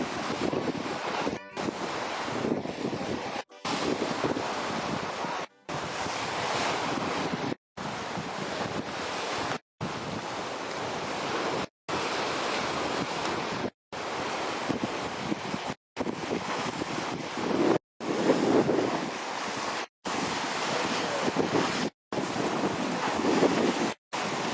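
Surf rolls in at a hotel shoreline in Campeche, Mexico, a steady wash of waves under wind, moderately loud and broken by repeated abrupt dropouts.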